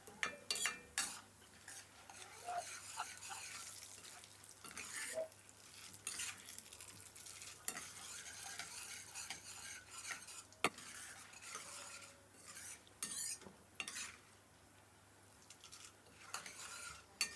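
Chana dal fries in a pan with potato masala seasonings, a quiet steady sizzle under repeated scraping and clinking stirs of a spoon against the pan.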